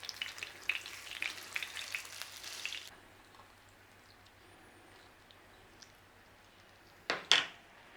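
Square Lorne sausage frying in a pan gives a steady sizzle for about three seconds, then quiets to a faint hiss, followed by a brief louder spatter or scrape near the end.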